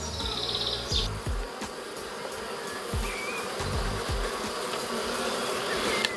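Continuous buzzing of many black honeybees close by at an open hive, a dense droning hum with faint bird chirps in the background.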